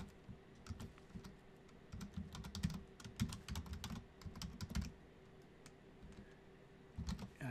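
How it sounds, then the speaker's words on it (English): Someone types on a computer keyboard in short, irregular bursts of quick clicking keystrokes, close and faint, with brief pauses in between. "I hope I typed that right."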